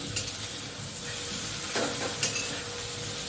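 Salt and turmeric are stirred into pointed gourd sabzi cooking in a kadai, a soft, steady sizzle with a few light scrapes and clinks of the spoon against the pan.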